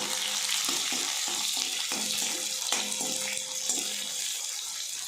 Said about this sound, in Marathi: आता कांदा चांगला परतून घ्यायचा